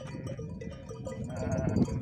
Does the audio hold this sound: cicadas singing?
no